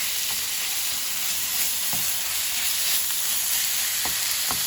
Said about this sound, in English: So here goes the mince. Add part by part and mix it nicely inside.